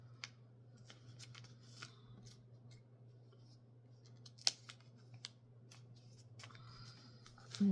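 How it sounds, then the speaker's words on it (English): Scissors snipping through denim in a string of short, crisp cuts, close by, over a steady low hum, with a louder snip near the end. "Just take my scissors and just keep cutting."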